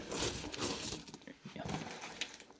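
Coins, including 2-euro pieces, clatter and jingle as they are dropped onto a pile, with dense metallic chinks close up over about two and a half seconds and no talking.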